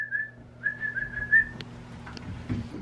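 A person whistles a short run of clear, high notes in quick succession to call a puppy, then stops, leaving faint room noise and a low hum.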